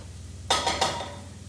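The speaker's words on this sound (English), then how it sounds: "my onions have been in for a few minutes and they're just sizzling away there" Onions and garlic frying in a pan for a vegetable and rice soup, with a sharp clatter or stir onset followed by a couple of bright hissing bursts that fade quickly over a low background hum.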